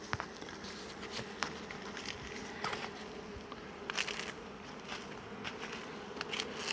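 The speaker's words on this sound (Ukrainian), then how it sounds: "Пчоли дуже гарно працюють." Honeybees buzzing at a mobile apiary in a forest near Torchyn, Volyn region, during acacia bloom: a dense, continuous hum of many bees with occasional louder passes close by.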